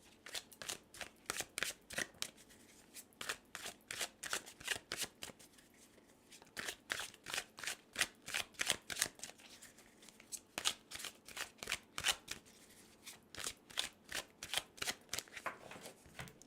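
Tarot cards being shuffled for a reading, with repeated crisp riffling bursts in quick rhythmic runs and short pauses between them, close and clear, with no voice over them.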